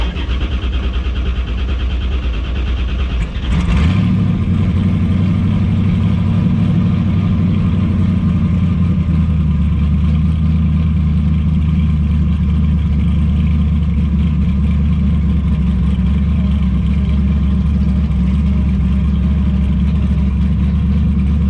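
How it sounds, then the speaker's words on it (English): A twin turbo 1969 Camaro V8 running on Holley EFI during tuning catches and settles into a loud, steady low rumble that holds for around eighteen seconds, with no one talking. "rev it, put it on launch control a couple of times"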